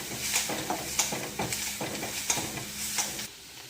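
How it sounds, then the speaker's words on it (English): Finely chopped cabbage and carrots sizzle steadily in a hot pan while a utensil stirs them in a series of scraping strokes, close and fairly loud, ending abruptly. "finely chopped cabbage and carrots. And give it a nice stir."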